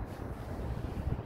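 Strong wind buffets the microphone atop the castle in Newcastle, a continuous low rumbling roar with gusty swells, close and loud, with no talking.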